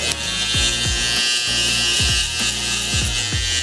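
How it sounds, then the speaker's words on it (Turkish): A Babyliss Pro electric hair clipper cutting hair during a skin fade, a loud continuous close buzz with repeated dips in pitch as the blade passes through hair. "Babyliss Pro çok güzel makine."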